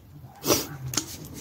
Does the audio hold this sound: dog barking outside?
yes